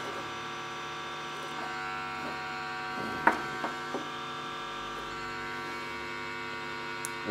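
A homemade frequency output circuit emits a steady electrical tone with a buzzy, hum-like quality, constant and moderately quiet throughout, broken only by a few faint clicks near the middle and end, with no talking.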